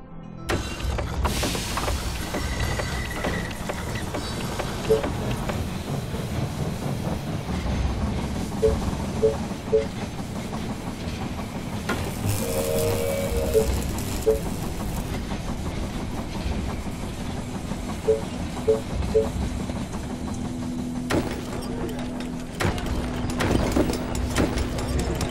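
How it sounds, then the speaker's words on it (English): A train pulling into a station in the strategy video game They Are Billions, with steady rolling clickety-clack and mechanical rumble continuing at a moderate level throughout, joined by brief tonal game alert chimes. "Train has arrived at the station."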